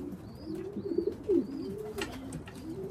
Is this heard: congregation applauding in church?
no